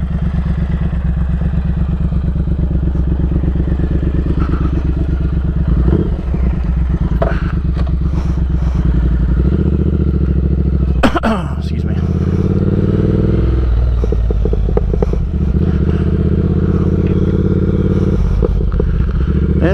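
A 2019 Triumph Speed Twin with a DNA air filter, Motone X-Pipe and Nuke slip-on exhausts rumbles steadily on a ride, its twin-cylinder note loud and close with rises in revs, and a person talks over it in places.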